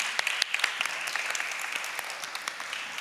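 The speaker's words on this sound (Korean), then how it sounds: "정말 멋진 말씀 주신 이정현 회장님께 다시 한번 큰 박수 부탁드리겠습니다" Applause from the audience at a youth and university students' church worship service, moderately faint with scattered individual claps fading out.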